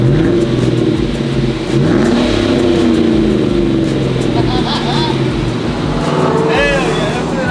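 A GMC truck fitted with a new exhaust revs hard and loud close by, its engine note rising and falling over several seconds while people talk over it.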